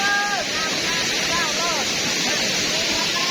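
A waterfall in southern Laos, at a spot used for rope swings and jumping into the pool, roars steadily as a dense, unbroken rush of falling water that fills the whole scene.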